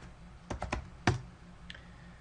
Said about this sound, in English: So I will type in my name.